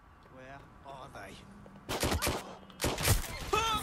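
Shots from an electric shock gun in Watch Dogs Legion crack out in a rapid cluster, then another loud burst, following a stretch where a voice speaks faintly.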